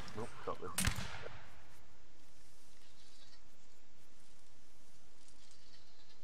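Brief burst of video-game gunfire in a multiplayer battle match, a few sharp shots clustered near the start, then a long stretch of quiet background hiss.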